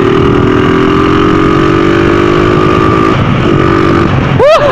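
A Honda Tiger motorcycle engine runs steadily and loudly up close, a constant mid-pitched drone that shifts slightly partway through, with a brief rising whine near the end.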